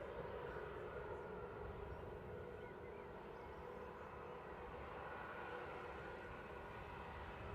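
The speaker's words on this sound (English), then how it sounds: "We've got Lufthansa heading off." Lufthansa Airbus A321 airliner taking off at Manchester Airport, a faint distant steady roar of jet engines with no voices.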